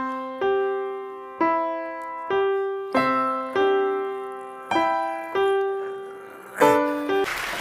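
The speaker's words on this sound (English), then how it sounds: "what a seven-year-old child sounds like when he plays the piano" A seven-year-old child plays the piano, striking about eight clear single notes at a slow, even pace, each ringing out and fading before the next, with a brighter final chord and no talking.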